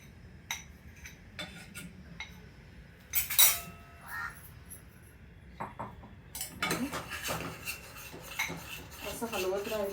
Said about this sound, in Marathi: असं हलवत राहायचं